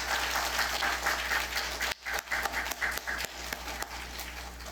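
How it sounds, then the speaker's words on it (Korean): A church congregation gives warm applause at a Bible lecture gathering, dense clapping that drops briefly and resumes a little softer. "뜨거운 박수 부탁드리겠습니다"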